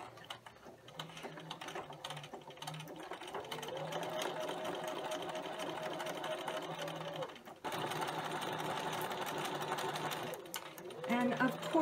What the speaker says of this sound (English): I'm going to edge stitch about an eighth of an inch away from the edge of the waistband.